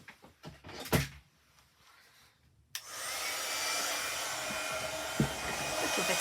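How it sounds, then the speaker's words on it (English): A heat gun runs to heat-set embossing powder, a steady loud blowing roar that switches on abruptly after a few soft clicks and handling knocks, with faint bumps under the airflow. "Remember to heat up your heat gun first."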